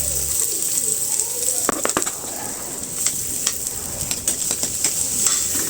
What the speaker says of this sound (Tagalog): And now we will put the garlic.